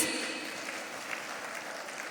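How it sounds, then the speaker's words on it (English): Audience applause for the youngest ICSI chairman in India at a G2 Meet leaders' event: a dense, steady wash of many hands clapping at moderate loudness throughout, with no talk over it. "Clap hands for him once again, please."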